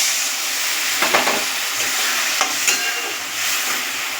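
Okra with ground sesame and green chilli sizzles in hot oil in a pan while being stirred, a steady close hiss broken by a few scraping stirs.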